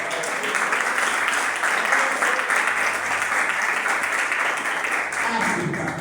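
Church congregation at a missionary sermon by an Angolan pastor breaks into sustained applause, a thick continuous wash of many hands clapping at a steady loud level throughout, with faint crowd murmur beneath.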